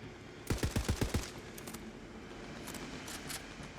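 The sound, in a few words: Dahlia assault rifle gunfire in Tiny Tina's Wonderlands video game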